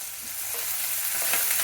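Onion, green chillies and curry leaves fry lightly in a pan as a tempering for mutton kulambu. A dense, close sizzle holds steady and grows slightly louder, with a few faint stirring scrapes.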